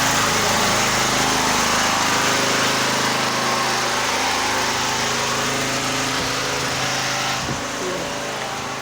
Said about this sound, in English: Generator noise.